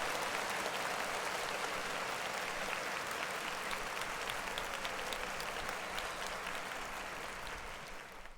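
Applause for a rapper, a thick, continuous patter of many hands clapping at even strength that gradually tapers off toward the end.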